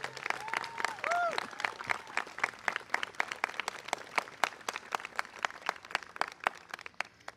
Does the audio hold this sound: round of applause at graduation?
yes